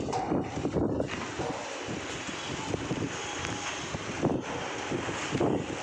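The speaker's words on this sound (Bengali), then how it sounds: "ঝড় ঝোড়ো হাওয়া বইছে বিশাল জোরে।" Strong stormy wind gusts outdoors during light rain, roaring and buffeting the microphone in a continuous broadband rush with a few louder surges.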